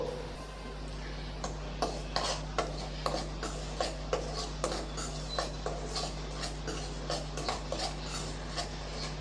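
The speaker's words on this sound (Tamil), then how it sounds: "இப்போ மாவை வறுக்கிறதுக்கு ஒரு கடாய் வச்சுருக்கேன்" Rice flour being stirred as it dry-roasts in a kadai, with a steady run of soft scraping and tapping strokes against the pan, moderately close, over a constant low hum and no talking.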